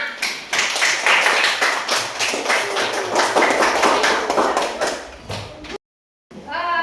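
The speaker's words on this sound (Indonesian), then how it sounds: "Nah, tepuk tangan ya." A classroom group claps for several seconds, sharp irregular hand claps fairly close and loud, then they stop abruptly.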